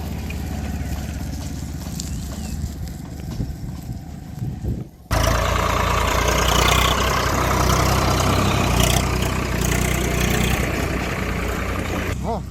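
A motorcycle engine drones and rumbles over a broken, damaged village road between Old and New Antarli near Shirpur, loud and close, with a sudden rise in noise midway and a voice talking faintly underneath.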